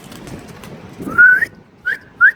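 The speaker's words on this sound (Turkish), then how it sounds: "Aa bu kuş burada bakın." A bird near a balcony gives three short, clear whistled calls close by, with the first one longer, after a stretch of faint background rustling.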